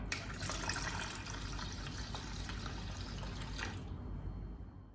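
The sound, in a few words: water poured into batter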